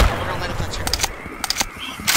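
Gunshots from a character firing at a zombie in Garry's Mod, several sharp game-weapon pops spaced irregularly over a muffled background with voices talking.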